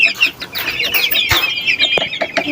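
Chickens cluck and squawk inside a coop during its weekly cleaning, a close, busy run of overlapping calls with a few brief flaps and bumps over about two and a half seconds.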